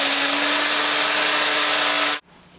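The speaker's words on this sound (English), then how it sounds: "I just give it a quick little zhuzh in the blender." A small kitchen blender whirs loudly on cranberries for about two seconds in one steady, dense burst, then cuts off abruptly, leaving a faint hum.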